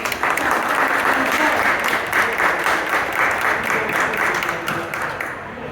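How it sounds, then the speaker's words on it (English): Audience applause welcoming a speaker to a talk reviewing the CUMULUS art exhibition, a dense, steady clapping from a room of people that holds for several seconds before tapering off slightly at the end. "Big round of applause for"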